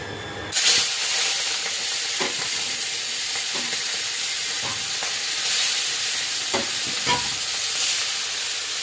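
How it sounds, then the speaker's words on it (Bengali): Prawns frying in hot oil in a pan make a loud, continuous sizzle and hiss, with occasional clicks and spatters throughout. "তবে চিংড়ি মাছগুলো আগে ভেজে নেব"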